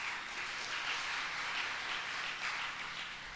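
An audience at a church celebration event claps steadily in a dense, sustained burst of applause lasting a few seconds, with no voices over it.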